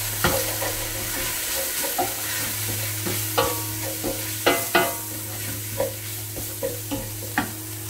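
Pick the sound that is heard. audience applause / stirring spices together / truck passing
stirring spices together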